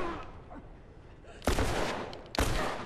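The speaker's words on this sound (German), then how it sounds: "Der schießt auf uns." Gunfire from an enemy in The Last of Us video game, two sharp loud shots with a short echoing tail, spaced about a second apart after a quieter start.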